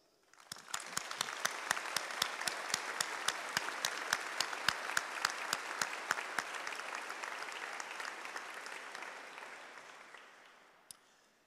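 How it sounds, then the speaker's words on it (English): A graduation audience at a University of Lincoln ceremony breaks into a full round of applause, dense steady clapping from a large hall that swells quickly, holds for about ten seconds, then tapers away. "please join me in a round of applause to thank all those who have helped you through your studies"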